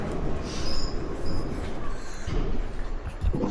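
Sofia metro train at the airport station, a loud rumbling rail roar with high wheel squeal, constant and close throughout with a few knocks near the end.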